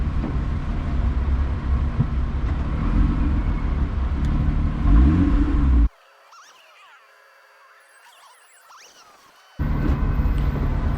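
A Lotus 3-Eleven sports car drives through Eindhoven, its loud engine droning and rising steadily up close, then the sound abruptly drops out for a few seconds before the engine noise returns.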